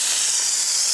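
Crispy-skinned salmon sizzling loudly in a pan on a beach camp stove just after flipping, a steady dense hiss close up with no voices.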